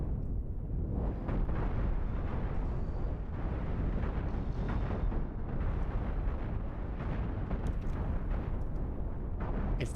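Missiles explode in the space-combat game Cosmoteer, making a dense, continuous rumble of loud overlapping blasts and booms that runs steadily from start to finish with no pauses.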